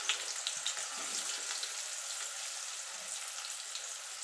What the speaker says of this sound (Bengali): আমি সাদা তেল এখানে দিয়েছি, তেলটা গরম হয়ে গেছে। এবার দিয়ে দেবো পেঁয়াজ।